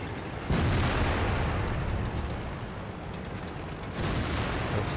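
A heavy tank cannon fires in World of Tanks with a loud, broad blast near the start, followed by a rumbling battle ambience and a second burst toward the end.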